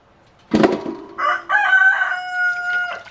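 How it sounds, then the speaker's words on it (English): A backyard rooster near a flock of chickens crows once loudly and close, a sharp opening note followed by a long drawn-out cock-a-doodle-doo lasting about two and a half seconds. "That rooster crows anytime he hears your voice."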